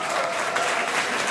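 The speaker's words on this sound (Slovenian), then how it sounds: "Prosim, aplavz še za njih." Loud, dense applause from a large crowd at the Ljubljana Marathon, steady and sustained throughout the short stretch with no talking over it.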